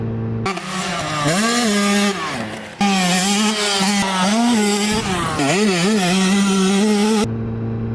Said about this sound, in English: Dirt bikes, their sound.